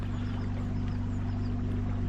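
An electric boat motor runs on battery power at its maximum setting, giving a steady low hum with a faint watery wash, even and continuous throughout with no talking.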